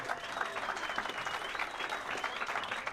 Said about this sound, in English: if you can give a nice warm round of applause for Neil Caroline